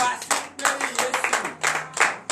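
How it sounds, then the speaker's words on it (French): A church congregation at a morning prayer service claps in quick, uneven bursts, close and lively, with a faint voice beneath. "Donnez l'acclamation"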